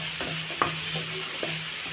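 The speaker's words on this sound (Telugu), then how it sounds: "ఇప్పుడు స్టవ్ సిమ్లో పెట్టుకొని మిక్స్ చేసుకోవాలి." Chopped onions fry in a pan on low heat with a soft steady sizzle, while a spoon stirs them in a few distinct scraping strokes, close up.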